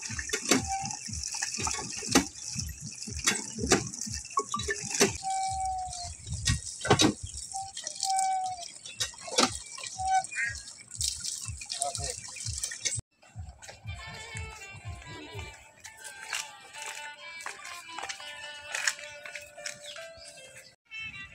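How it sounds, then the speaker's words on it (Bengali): Pomelo fruits are washed by hand in a village kitchen in Jatrapur, with running water gushing and splashing, irregular drips and clattering knocks, the flow cutting off and resuming partway through. "এই যে অতি ভিটামিন সি সমৃদ্ধ জাম্বুরা ফলগুলো আমরা এখন ধোবো"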